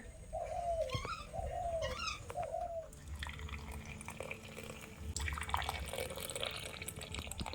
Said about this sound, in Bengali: সকাল সকাল এখানে জোড়া শালিক দেখতে পেয়েছি ওই যে